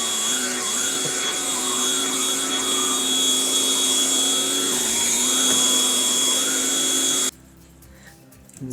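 A Philips Speed Pro compact vacuum cleaner runs with a loud, steady whine while cleaning dust from a sofa, then cuts off abruptly near the end, leaving quiet room sound.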